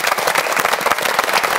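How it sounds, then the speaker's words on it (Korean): Audience at a Korean television show breaks into applause, a brief burst of many hands clapping close and loud, dense and rapid without pause. "자, 박수를 한번 청해보도록 하겠습니다"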